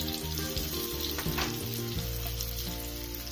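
Chili and turmeric powder masala sizzles steadily in hot oil over low heat for a chicken curry, a continuous close frying hiss with a few scraping stirs, no voices.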